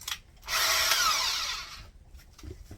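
A short whirring burst of a power drill driving a screw into a wooden cabinet, about a second long, with quiet handling noise before and after.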